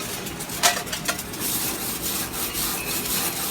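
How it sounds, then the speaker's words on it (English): A wire brush scrubs over a fresh weld, steady continuous rasping with a couple of sharper scrapes early on, close and moderately loud, no voices. "I'm going to use a wire brush to get rid of all the dust."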